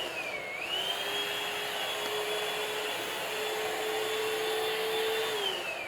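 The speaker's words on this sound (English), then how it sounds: "the extraction or the vacuum portion of it is kind of right here in the center" A Shark VacMop running along floor edges, a steady close whirring motor drone with a high pitched whine that shifts slightly in tone, alone with no talk.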